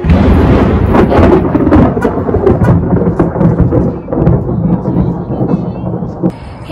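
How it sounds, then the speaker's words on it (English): Loud, close thunder rumbles and crackles continuously through a lightning storm, with rain falling underneath the booming roll. "there's crazy lightning going on and I really want to capture it. So here you go, see if we get any. It's so loud."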